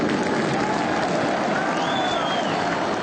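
A dense stadium crowd of Atlético fans roaring and applauding at the Independência stadium, a continuous loud wall of cheering with no breaks, a faint whistle rising above it briefly.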